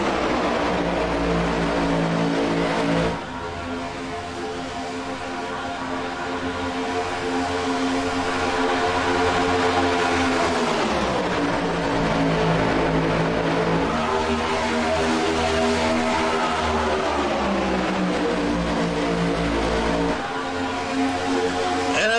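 Race cars drag racing side by side down the back straightaway of an oval track, a loud, sustained engine roar with layered whining tones that rise and dip as they pass, with no break.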